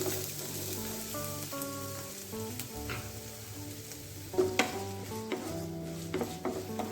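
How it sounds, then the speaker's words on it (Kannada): Chopped onions sizzle and fry in a little coconut oil in a pan for a brinjal gravy, a steady crackling hiss with a few light stirring clinks, no talking. "ಫ್ರೈ ಮಾಡ್ಕೊಳ್ಳೋಣ."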